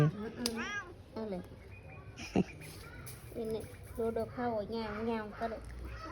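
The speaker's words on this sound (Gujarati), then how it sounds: "આ મીંદડી કેવું ને આટા મારે." A cat meowing repeatedly near a household where corn cobs are being shelled, several drawn-out rising meows close by, with a person talking between and over them.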